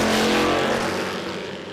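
Drag race cars, a Capri and a Statesman, roaring down the strip at Willowbank Raceway, a brief loud engine blast that fades as they pass into the distance.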